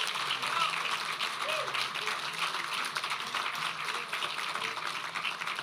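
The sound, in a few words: audience applause for Tennessee Jamboree performers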